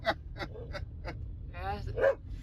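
A working signal dog barks in a series of short, sharp yips and bow-wows at close range along the Trans-Labrador Highway, followed by a longer whining yelp, over a low rumbling background.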